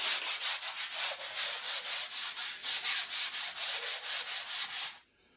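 A wooden picnic table top is being hand-sanded with quick, even back-and-forth strokes that rasp close and steady for several seconds before stopping abruptly.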